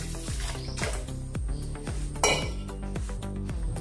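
A metal lid set onto a kitchen pot of soaking rice makes a quick run of sharp clinks and clatters, close and bright, followed by a few lighter metallic taps.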